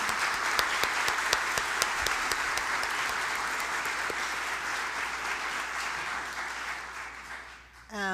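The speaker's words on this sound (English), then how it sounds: "So a gratitude round of applause before the first" Audience applause rings out for a panel of organic farmers at a conference keynote, a full, sustained clapping from a large crowd with crisp individual claps early on, tapering slightly before a brief dip at the end.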